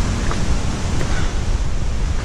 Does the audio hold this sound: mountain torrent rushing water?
yes